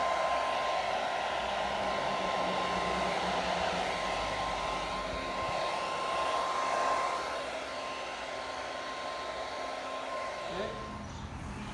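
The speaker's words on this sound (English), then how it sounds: "a hair dryer on the floor, especially when it is winter time" Hair dryer blowing hot air onto a concrete garage floor, a steady close whirring roar with a constant high whine that runs almost unbroken before cutting off near the end.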